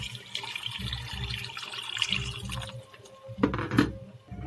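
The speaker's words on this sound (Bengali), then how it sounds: "জল দিয়ে দিলাম।" Water poured into a pan of savoury vermicelli (namkin simui), a steady liquid splash and trickle running throughout, with a couple of sharper clinks near the end.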